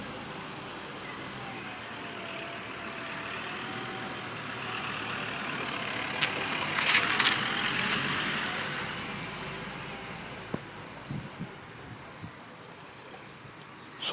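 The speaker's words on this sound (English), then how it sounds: "Oh, there's another car coming." A car comes up from behind and passes close by, its tyre and engine roar swelling to a peak midway, then fading under quiet ambient noise with a few small knocks.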